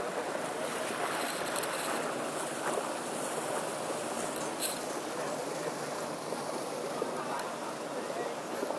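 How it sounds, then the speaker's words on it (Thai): A boat approaching across floodwater on a flooded city street beside a submerged crosswalk, with a continuous rushing wash of water and engine noise that stays loud and steady throughout. "มาแล้วฮะเรือครับ"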